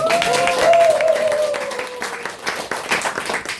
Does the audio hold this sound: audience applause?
yes